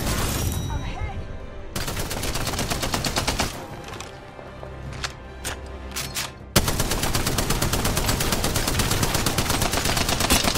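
Rapid bursts of gunfire and explosive blasts from an Apex Legends match, with a grenade going off amid dense, loud shooting that drops briefly in the middle before resuming at full intensity.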